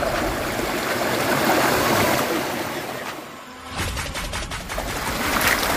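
Mountain river on the slopes of Merapi, its water rushing steadily as a loud, broadband wash that dips briefly midway, with no voices.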